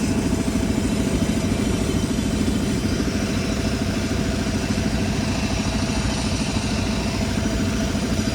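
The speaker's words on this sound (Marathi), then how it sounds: "ट्रॅक्टर चालू आहे." A tractor engine runs steadily at a well blasting site on a farm, a loud, continuous low chugging idle with a rhythmic clatter, close and unbroken, with no talk.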